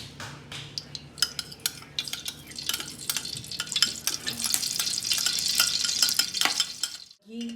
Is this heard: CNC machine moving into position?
no